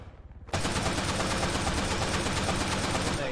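A sudden burst of rapid automatic gunfire in the video game Arma 3 erupts and keeps firing continuously, loud and close, dense overlapping shots with no pauses.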